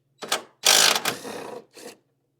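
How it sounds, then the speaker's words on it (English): Ratcheting wrench removing E18 external Torx bolts from the strut brace of a 2013-2015 BMW 335i N55 (F30), three close bursts of loud clicking metallic ratchet turns separated by short pauses. "So we're going to remove the E18 bolt on either side."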